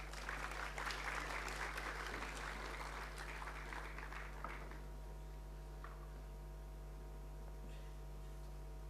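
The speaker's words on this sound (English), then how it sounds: "welcome them once again with applause" Applause from an audience at a college convocation ceremony, loud and dense at first, then thinning out to a faint patter over a steady mains hum.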